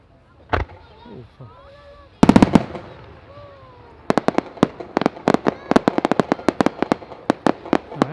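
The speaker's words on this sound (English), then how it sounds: "And moving on to 5-inch 8-break silver flashing shells" 5-inch 8-break silver flashing firework shells at a European firework festival demonstration: a boom and a launch, then dense rapid crackling pops from the flashing breaks, loud and fairly close, with voices under the first bursts.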